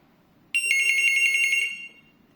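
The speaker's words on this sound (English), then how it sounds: "This is the ring." An ECG-710 hotel landline telephone rings with a bright electronic trill, one burst of about a second, loud and close against a quiet room.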